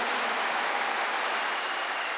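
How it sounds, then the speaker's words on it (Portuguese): A church congregation applauds at a Mass, a dense, steady wash of many hands clapping together, moderately loud and continuous, with no talk over it. "Vamos aplaudir Jesus? Pode ser mais forte, é para Jesus."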